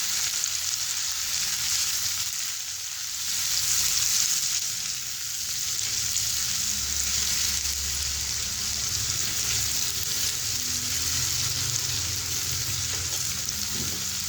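Chopped onion with ginger garlic paste frying in a pan over a medium flame for veg noodles, giving a steady, close sizzle that holds at an even level throughout, with no talking.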